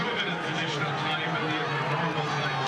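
Crowd at a Gaelic football match roaring after Kelly, a 23-year-old from Tubbercurry, puts over a point; a steady, dense wash of stadium noise with a voice talking over it.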